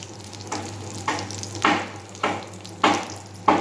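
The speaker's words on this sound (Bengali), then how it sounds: "এই তেলের মধ্যে এবার আমি ফোড়নে দিচ্ছি একটু কালো জিরে" Black cumin seeds (kalo jeere) tempering in hot oil after fried prawns are lifted out, a near, low sizzle that swells in six sharp crackling bursts at roughly half-second intervals, likely from stirring.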